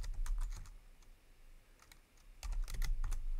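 Bursts of typing on a computer keyboard while a number is entered to test oreboot on a VisionFive 2 board, quick clustered keystrokes near the start and again toward the end, close and crisp with no talking.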